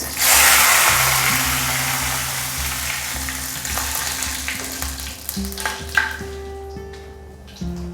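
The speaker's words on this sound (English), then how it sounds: "Now goes the curry leaves" Curry leaves drop into hot oil for an aloo bhujiya potato dish, setting off a loud burst of sizzling that slowly settles into a steady fry with scattered crackles and stirring sounds.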